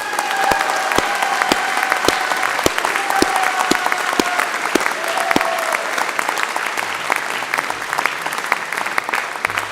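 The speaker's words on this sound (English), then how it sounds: "I think that deserves an even bigger round of applause" Sustained applause from a large crowd at a university graduation ceremony, dense and steady clapping with a few sharp whistles rising above it.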